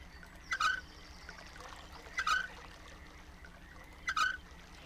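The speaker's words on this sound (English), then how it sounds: "Oh, I can hear the water flow." In the realMyst game, a water-retrieving machine in a swamp area makes water flow, with three evenly spaced splashing pours over a low steady background.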